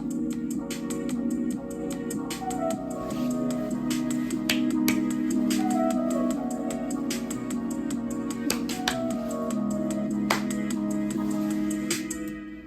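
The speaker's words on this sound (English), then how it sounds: "I might actually have it have less snares, and then I'm gonna add claps" Lofi electronic beat with snappy clap samples layered over a steady sustained tone and melodic line, the crisp claps repeating in a regular rhythm throughout, loud and with no talking.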